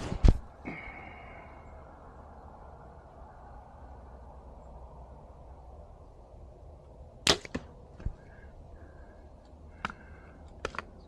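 Several archery shots ring out at dusk: sharp, isolated snaps and thwacks of released arrows spaced seconds apart over quiet outdoor ambience.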